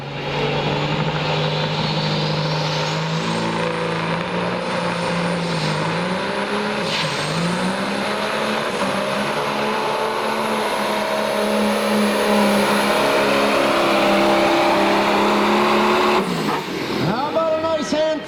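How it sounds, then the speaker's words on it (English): Loud, sustained engine roar of a heavily modified pulling truck at a truck and tractor pull, droning steadily for most of the run before abruptly cutting off near the end, with an announcer talking over it. "This is one beautiful, tough pulling truck called Class A."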